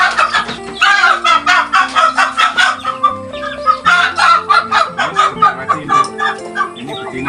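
Chickens on a farm in tidal swampland cluck and crow repeatedly, including a hen from Bangkok, a loud rhythmic chorus of close fowl calls filling the scene with no talk.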